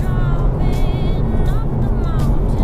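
A 2018 Honda City 1.5 SV top-trim used car driven at around 120 km/h into a curve, steady cabin road and engine roar with someone talking over it.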